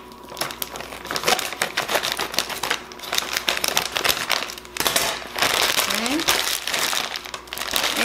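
Scissors cut open a plastic bag of dehydrated potatoes O'Brien with onions and peppers, close crinkling and rustling of the plastic with sharp snips, while someone talks.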